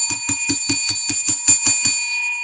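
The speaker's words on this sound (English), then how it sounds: "let's ring the bell for that" A bell rings rapidly about ten times in quick succession, each strike bright and sustained with a ringing overtone, fairly close and loud, with no talking.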